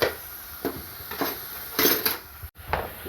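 Dishes and knives being loaded into a dishwasher, with a series of clinks and clatters of cutlery and plates set in one after another, close by and with no talking.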